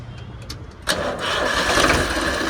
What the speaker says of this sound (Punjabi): ਸਟਾਰਟਿੰਗ ਹੈ ਟਰੈਕਟਰ ਦੀ